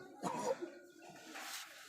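A single close, faint cough followed by a softer throat sound.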